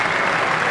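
A cricket stadium crowd in Pakistan breaks into sustained applause and cheering as Ganguly falls for 141 in 1999, a broad continuous roar of clapping at steady loudness.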